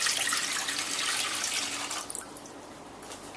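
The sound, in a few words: water being poured in for cooking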